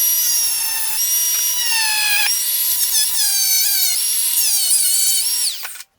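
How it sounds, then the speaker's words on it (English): An angle grinder cuts through plastic on a 2002 Honda 400ex ATV, giving a steady, loud, high-pitched whine whose pitch shifts slightly as it bites, running alone for several seconds before spinning down abruptly. "So the only thing I have is an angle grinder."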